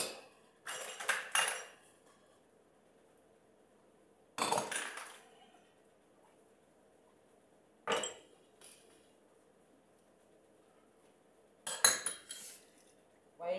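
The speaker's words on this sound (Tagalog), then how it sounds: "Yung ating hugas na pinggan, yun na lang yung ating i-video" Plates and cutlery clink and clatter as dishes are washed by hand, in four short separate bursts of rattling spaced a few seconds apart against a quiet background.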